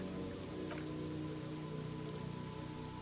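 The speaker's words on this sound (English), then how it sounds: "This rain will not let up anytime soon." Steady rainfall in the detective game Disco Elysium, a dense, even patter of drops on surfaces with a faint low hum beneath, constant and unbroken throughout.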